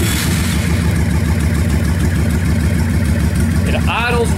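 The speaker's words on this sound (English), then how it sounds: "I'll go ahead and start it up for you here. This sounds like a V-twin is supposed to sound." A 2007 Honda Shadow 1100 Spirit V-twin motorcycle idling close by with a loud, steady, even engine rumble, a brief higher squeak near the end.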